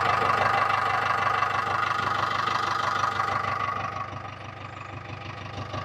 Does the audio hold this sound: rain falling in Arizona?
no